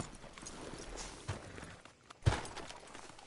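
Horse hooves clip-clopping on a town street in Red Dead Redemption 2, a few uneven footfalls at a walk near the sheriff's office, with one sharper, louder hoof strike near the end.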